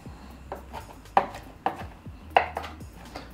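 Knife coarsely chopping tomatoes on a board for a vegan chilli, a few sharp, irregular taps over a quiet background.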